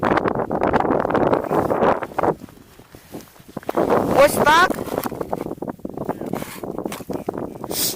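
Strong gusty wind on open first ice buffets the microphone in a broad roar, easing briefly midway before picking up again; a few words are spoken.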